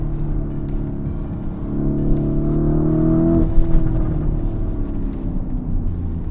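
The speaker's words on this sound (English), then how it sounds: "this continues with the 4-liter twin-turbo V8 engine, but power goes up to 657 bhp" A Lamborghini Urus S with a 4-liter twin-turbo V8 in sport mode revs up close by, its deep, steady drone swelling and rising in pitch before easing back to a rumbling idle.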